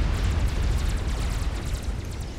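Heavy cannon fire and explosions in Supreme Commander during a custom 4v4 battle on Setons, a dense continuous roar of booms and rumbling blasts, loud and unbroken, with no voices.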